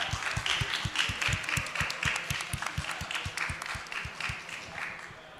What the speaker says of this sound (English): let's give Markus a round of applause.